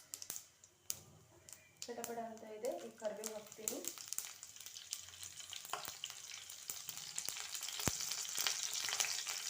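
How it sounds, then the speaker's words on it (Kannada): A spoonful each of cumin and mustard seeds hits hot oil and starts crackling, building into a steady, close sizzle with a few sharp pops while a voice talks briefly early on. "ಆಯಿಲ್ ಮೇಲೆ ಒಂದು ಸ್ಪೂನು ಜೀರಿಗೆ ಒಂದು ಸ್ಪೂನು ಸಾಸಿವೆ ಹಾಕ್ತಾಯಿದ್ದೀನಿ"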